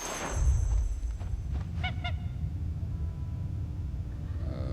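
A goose honking in the video game Where Winds Meet, a short cluster of two or three nasal honks in the middle, moderately loud over a steady low background rumble.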